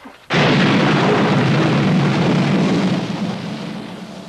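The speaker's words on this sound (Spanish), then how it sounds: "oyeron un sonido como de trueno" A thunder sound effect bursts in suddenly as a loud, broad rumble, holding strong for a few seconds before slowly fading, with no voices.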